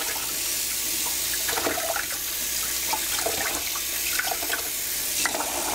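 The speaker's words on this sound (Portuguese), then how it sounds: "Vou lavar mais uma vez em água só para tirar a água do banho de tingimento que ainda tá dentro desse fio." Dyed cotton yarn being rinsed under a running tap, with a steady, close rush of water and small irregular splashes and drips throughout, no voices.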